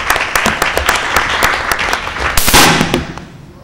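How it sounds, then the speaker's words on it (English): Fireworks and firecrackers pop in a rapid crackling volley outdoors, loud and dense, swelling into a bright burst before fading, with faint crowd noise underneath. "We got fireworks too."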